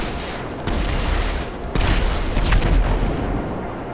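Homing missile explosions in the video game GTA 5 during a runners-versus-snipers race: deep, rumbling blasts hit in quick succession, loud and close, over a constant roaring background.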